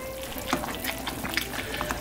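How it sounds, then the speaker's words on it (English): Pot of Macedonian cabbage stew (zelka manja) bubbling on the stove, a steady close sizzle and crackle of boiling with small pops scattered throughout, no voices. "it's boiling nicely"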